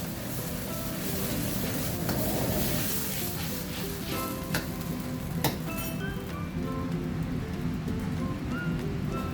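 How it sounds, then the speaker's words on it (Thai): Oyster sauce for Chinese kale simmers with a continuous bubbling hiss, joined by a few light clinks of utensils against the pot. "น้ำเคี่ยวไปเรื่อยๆนะครับผม"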